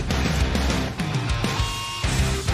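Power metal song plays loud and dense, with a full band of distorted guitars, drums and sustained tones that keep a steady wall of sound throughout.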